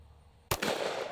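A single sharp gunshot from two stacked .45 ACP rounds fired together as one load, a sudden loud crack after near silence, followed by a sustained noisy ring-out and rumble.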